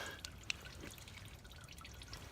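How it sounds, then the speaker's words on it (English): Coolant drains and drips from a van's opened cooling system, a soft steady trickle close by with a couple of sharp single drops standing out early on. "how is this coolant coming out?"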